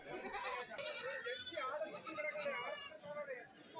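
Young goats bleat loudly and repeatedly at a busy goat market, their wavering cries close by and overlapping with crowd noise and voices of people talking.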